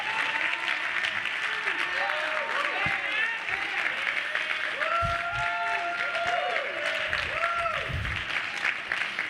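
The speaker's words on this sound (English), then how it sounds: "please give her a hell of a round of applause" Convention audience at a National Action Network event applauding steadily, a dense continuous wall of clapping with cheers and whoops rising over it throughout.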